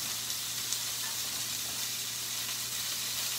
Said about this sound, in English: as soon as we melt out our butter, now we're going to start throwing in, we'll throw in our onions and our shallots